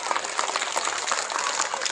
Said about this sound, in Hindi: तालियों की आवाज जोरदार होनी चाहिए